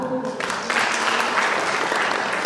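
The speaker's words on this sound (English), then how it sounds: "Please give him another clap." Conference audience at an agroecology gathering claps for a presenter, a dense steady round of applause filling the room after a brief quieter start.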